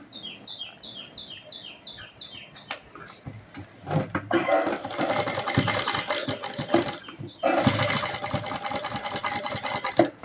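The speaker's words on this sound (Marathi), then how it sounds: "गळा मार्क केलेला आहे त्याच्यावर मी आता शिलाई टाकणार आहे" After a few bird chirps, a sewing machine stitches around a marked blouse neckline in two loud, rapid whirring runs, separated by a short pause.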